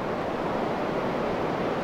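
Strong wind roars steadily outdoors on a very windy day beside a railway line, a loud, unbroken rushing blast buffeting the microphone with no voices.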